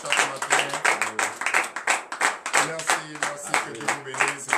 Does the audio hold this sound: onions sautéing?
no